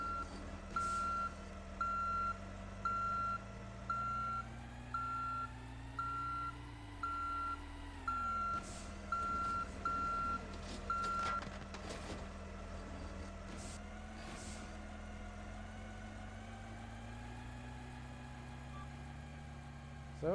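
Steady electronic reversing beeps from a truck in a Roblox game repeat at an even rhythm alongside a low engine drone, continuing for most of the stretch before fading into the background hum.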